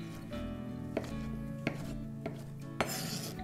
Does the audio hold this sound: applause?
no